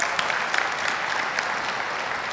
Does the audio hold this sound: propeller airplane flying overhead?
no